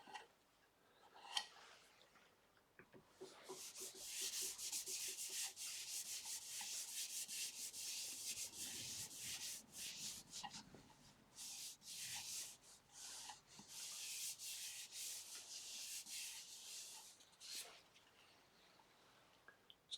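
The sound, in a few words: rubbing sanding sealer onto wood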